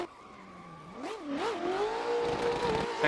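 A BMW E36 drift car engine revs hard in fifth gear on a mountain road, the pitch wobbling up and down before climbing into a steady, loud, close howl with faint tire noise and no voices.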